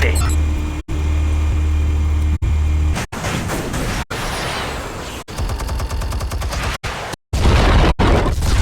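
Explosives detonate in the Telltale Batman video game: a string of loud, sharp booms and crackling bursts over a low steady hum, with abrupt cuts of silence between blasts.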